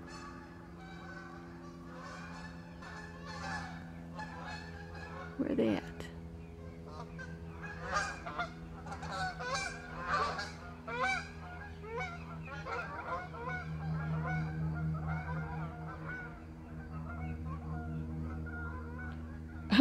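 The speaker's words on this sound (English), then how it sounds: "for those of you that wanted to see the geese flying overhead, there you go" Geese honk repeatedly overhead, a loose chorus of calls rising and falling, with a brief spoken question partway through.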